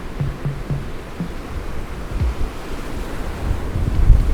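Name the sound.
ocean waves on Zuellni Beach, Isla Culebra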